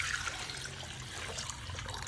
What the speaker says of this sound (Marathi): आता याला आपण पाणी टाकून बॉईल करूया